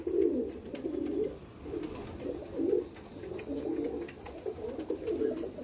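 Pigeons at a feeding spot coo in low, throaty, repeated rolls, several birds overlapping in a steady rhythm close by, with faint light clicks and rustles in the background.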